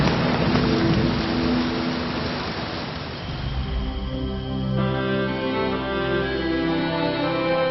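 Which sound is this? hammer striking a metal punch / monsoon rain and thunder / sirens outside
monsoon rain and thunder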